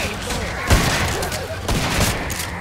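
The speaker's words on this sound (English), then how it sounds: "old man is still shooting" Gunfire in the co-op zombie shooter Killing Floor 2 at a LAN event, loud bursts of shots with sharp impacts around the middle and later, a voice talking over the action.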